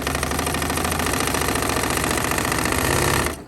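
Sewing machine sewing a quarter-inch quilt seam, a loud, close, rapid rhythmic chatter running continuously for over three seconds, then stopping abruptly.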